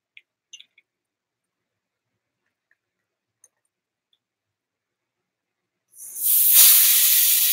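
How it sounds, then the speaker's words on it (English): A few faint ticks and clicks sound in near silence, then a bicycle tyre valve is opened and air rushes out in a loud, steady close hiss to the end. "Let's let out some air."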